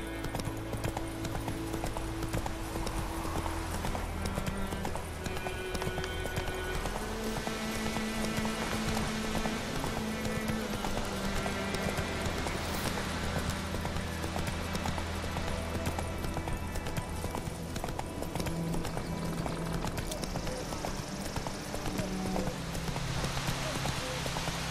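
Horse hooves clip-clop steadily through the whole stretch in The Witcher 3, a continuous rhythmic trot over layered game music and ambient sound, with light rain-like texture and an occasional whinny.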